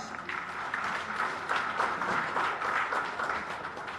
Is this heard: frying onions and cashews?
no